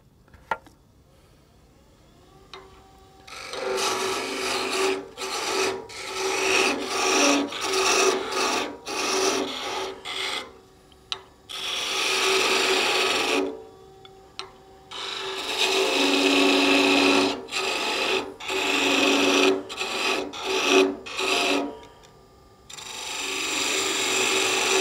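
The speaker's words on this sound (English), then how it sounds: "back to this parting tool. I'm going to be bringing that down in a peeling motion" A parting tool peels across spinning wood on a lathe while turning a Christmas candle holder, giving a loud, rasping scrape in repeated bursts of a second or two, with brief pauses between passes.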